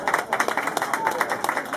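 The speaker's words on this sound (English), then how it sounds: "Give Randy a big round of applause." Audience applause at a racing club hall of fame induction in Peoria, a steady patter of many hands clapping together at moderate distance, holding an even level without pauses.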